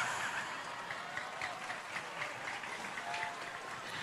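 A crowd at an Islamic sermon claps in a soft, dense patter that runs steadily for a few seconds, heard from a distance at low level.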